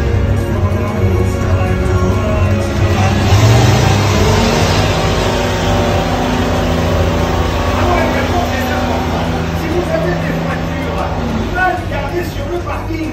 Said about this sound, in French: Passage à grande vitesse. Et c'est Monster Truck.